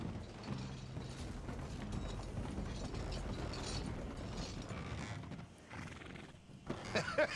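Horse in Red Dead Redemption 2 whinnying with clip-clopping hooves and clinking tack mechanics, a steady close layer of game sound throughout, dipping briefly near the end before a few louder knocks.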